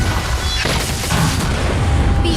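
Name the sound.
explosion in the video game Honkai Star Rail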